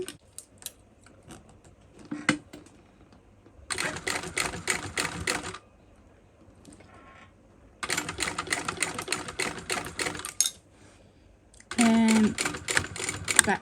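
A sewing machine stitches a bag seam in three separate bursts of rapid, rattling needle clatter. Quiet pauses fall between the bursts, with faint handling noises.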